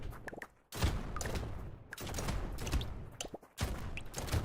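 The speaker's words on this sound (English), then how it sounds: "Oh, the shotguns are loud." Shotguns in the video game Brotato fire in dense, overlapping volleys, a loud sustained rattle of chunky blasts broken by brief pauses.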